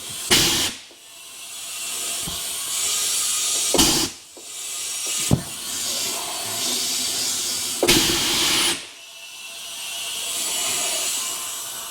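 Compressed air hisses into a tire being mounted on a 1951 Buick Super, several loud bursts separated by short gaps, with a sharp click at each start.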